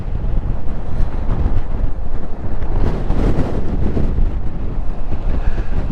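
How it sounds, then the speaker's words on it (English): Strong gusting wind buffets the microphone in a continuous loud rumble, swelling and dipping over several seconds outdoors with no other clear sounds. "It's like super windy."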